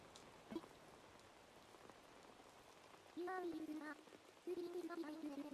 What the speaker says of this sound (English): Another one with rain.